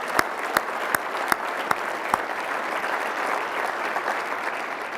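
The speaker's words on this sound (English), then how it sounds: "could we just have a round of applause for David" Audience applause for a colleague at a National Association of Manufacturers event, a steady wash of many hands clapping with a few sharp, close claps standing out near the start.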